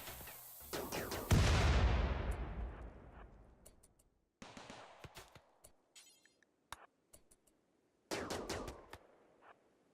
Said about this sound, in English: They just keep firing at them.